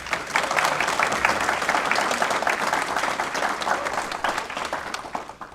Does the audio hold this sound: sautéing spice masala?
no